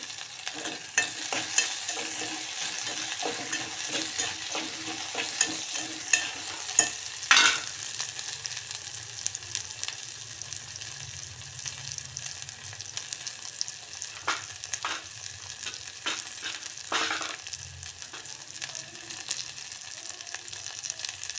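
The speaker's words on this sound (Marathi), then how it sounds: "टोमॅटो पण आता थोडंसं फ्राय होऊ द्यायचं" Tomatoes frying with spices in oil for bhagar khichdi, with a steady close sizzle running throughout and repeated scraping stirs and clinks of a spoon against the pan, and no talk.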